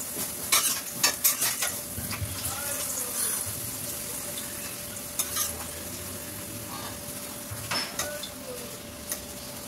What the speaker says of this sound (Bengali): এই যে আজকে নিরামিষ, পাঁপড় ভাজা হচ্ছে।